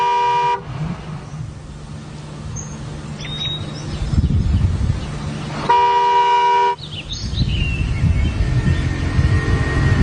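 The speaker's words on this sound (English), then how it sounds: "stay in the car and honk my horn until somebody came to fetch me" A car horn blares in two long, loud blasts separated by several seconds, with traffic noise and birds chirping in the background.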